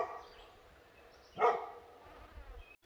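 One short dog bark rings out at moderate distance outdoors on a hillside near a beach, alone over quiet background with faint insect-like hum.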